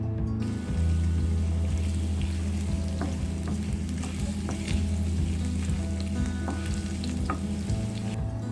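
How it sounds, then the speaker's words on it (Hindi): Sliced ginger and cumin fry in hot oil until golden, giving a steady close sizzle with crackles and pops scattered through it and a faint stirring scrape, with no talk. "अदरक को अच्छी तरह से गोल्डन कर लें।"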